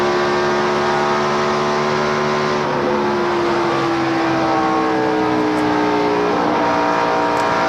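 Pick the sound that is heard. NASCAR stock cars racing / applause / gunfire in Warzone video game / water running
NASCAR stock cars racing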